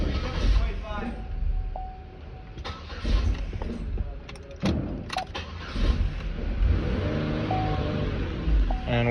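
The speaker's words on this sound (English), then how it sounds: "with this vacuum leak, it struggles to run" A car engine with a vacuum leak idles roughly and unevenly, surging and faltering with a lumpy low rumble while a person talks over it.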